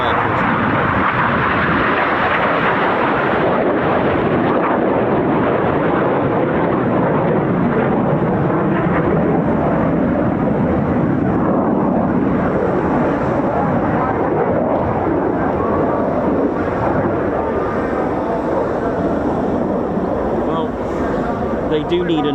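Military jets at an air show with F-16, F-18, Typhoon and Red Arrows aircraft, a loud, continuous roaring engine rumble that holds steady throughout and fills the whole clip.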